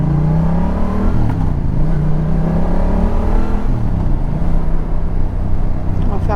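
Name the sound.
Yamaha MT07 2019 motorcycle accelerating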